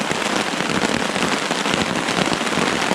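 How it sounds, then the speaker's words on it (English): Heavy rain drumming on a tarp at Sixth Lake in the Essex Chain Lakes: a dense, steady hiss of crackling drops, close and unvarying, with no voices. "now, this heavy rain."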